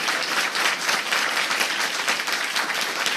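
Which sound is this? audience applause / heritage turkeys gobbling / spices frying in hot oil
audience applause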